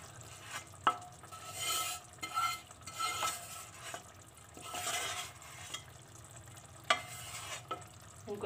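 A spoon stirs beef qeema with bitter gourds in a pot. The scrapes and clatters come in repeated bursts over a low, steady sizzle of frying, close and moderately loud, with no voices.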